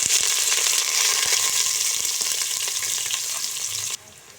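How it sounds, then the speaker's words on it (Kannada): Sliced onion fries in hot oil with bay leaf, cinnamon, cloves, cardamom and star anise for tomato rice, a loud, steady close sizzle with light stirring scrapes that suddenly drops to a quieter hiss near the end. "ಈಗ ಈರುಳ್ಳಿ ಎಲ್ಲ ಫ್ರೈ ಆಗಿದ್ದು"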